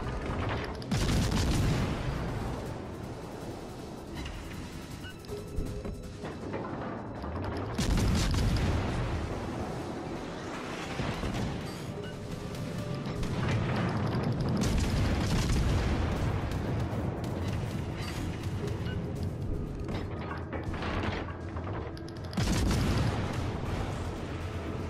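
Naval gun salvos from the cruiser Huanghe in World of Warships, with repeated deep booming shots and shell hits landing in heavy waves, dense and loud throughout with brief lulls between volleys.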